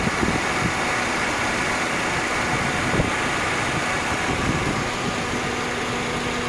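A 2013 Toyota Vios 1.5E with low mileage idles close by, its engine holding a smooth, even hum with a faint steady vibration and no revving throughout.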